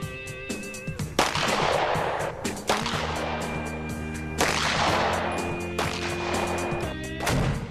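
A 9mm pistol fired at a target from about 14 feet, with several sharp, loud shots spaced a second or so apart, each followed by a ringing tail, against steady background hum.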